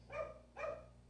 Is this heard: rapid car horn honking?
no